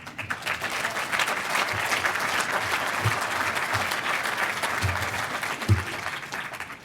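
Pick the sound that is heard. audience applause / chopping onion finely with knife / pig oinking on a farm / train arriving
audience applause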